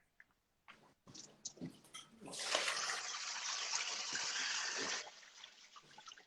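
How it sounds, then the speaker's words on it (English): Water pours and gushes as soaked instant noodles are drained in a kitchen during a Pad Thai cooking session, a steady splashing stream lasting a few seconds after some faint clattering and handling. "It's in water, so should I drain it right now?"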